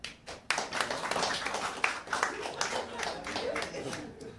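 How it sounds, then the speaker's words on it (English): An audience at a late-night live comedy show claps in scattered, uneven bursts for several seconds, fairly close and moderately loud, with a voice faintly audible underneath. "Now clap if you do like your job."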